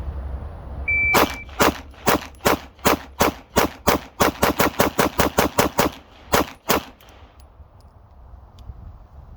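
About seventeen sharp gunshots from a Staccato P pistol fired at 7 yards, crisp cracks in a quick, slightly uneven cadence, with a short pause before the last two, then fading room noise.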